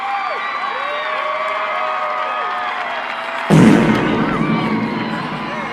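Football stadium crowd roaring and cheering during a kickoff, a steady loud wash that swells suddenly midway with a burst of noise, then stays loud.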